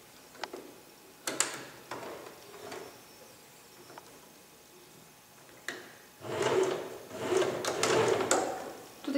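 A domestic sewing machine stitching a dress seam clatters in short bursts with ticking mechanical pauses, then runs in a longer steady whirring stretch near the end, with no speech.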